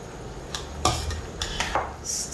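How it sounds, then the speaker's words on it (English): Stir-frying Nyonya yellow noodles with leafy greens in a pan: a spatula clinks and scrapes against the metal in a few irregular knocks and rattles over soft background noise, with no talking. "Stir it a few times."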